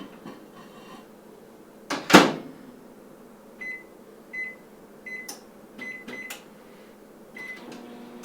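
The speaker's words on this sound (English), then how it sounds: "So we'll put it in the microwave" A microwave door thuds shut, a few short keypad beeps follow, and the oven hums steadily in a quiet kitchen.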